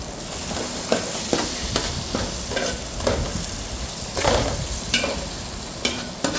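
Biryani masala and curd sautéing in a pan, a steady close sizzle with a spoon scraping and stirring at an irregular pace throughout, and no voices.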